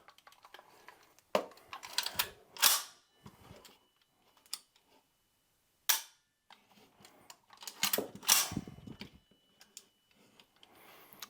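A Daewoo DR200 rifle put through a function check on safe, giving sharp separated mechanical clicks and clacks in small clusters with quiet gaps between, close and crisp with no talk.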